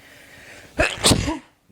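A single loud, close sneeze bursts out after a quiet moment, a sharp intake followed by an explosive release, then silence.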